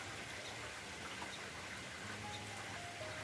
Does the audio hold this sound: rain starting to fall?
yes